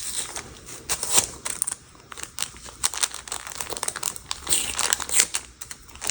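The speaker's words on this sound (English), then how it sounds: "We're gonna go ahead and remove the tape and the vinyl." Tape and vinyl being peeled off a 100% cotton sublimated shirt, with close crinkling, crackling and light tearing noises in irregular bursts, and no talk.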